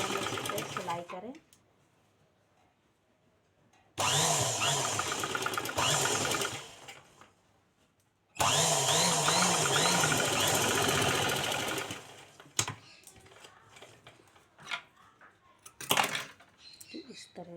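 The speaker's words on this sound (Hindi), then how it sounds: "फिर हम इस पर सिलाई करें।" An electric sewing machine stitches a cotton blouse in bursts of fast, even mechanical whirring a few seconds long, separated by quiet gaps. Someone talks between the runs.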